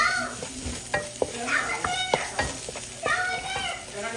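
Chili paste sizzles in a frying pan for nasi goreng as a spoon stirs and scrapes it, a soft crackling hiss under people talking nearby.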